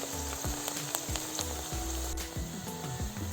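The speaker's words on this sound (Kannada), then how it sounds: "ಎಣ್ಣೆ ಕಾದಿದೆ. 1 ಈರುಳ್ಳಿ ಹಾಕ್ತಾಯಿದ್ದೀನಿ, ಈರುಳ್ಳಿ ಸ್ವಲ್ಪ ಕೆಂಪಾಗಬೇಕು." Onion frying in hot oil in a pan, a steady bright sizzle with crackling pops and repeated low scraping thumps from stirring, close and continuous with no talk.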